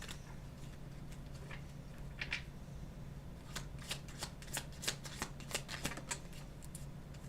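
Tarot cards are shuffled by hand at close range, a quiet run of quick papery riffles and snaps that builds into a denser flurry over a steady low background hum.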